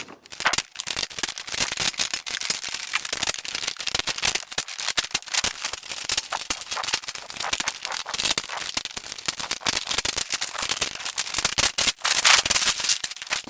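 An LED strip is peeled off a thin layer of double-sided tape inside a 50-inch Kogan LCD smart TV, making dense, close crackling and ripping scratches that go on without a break.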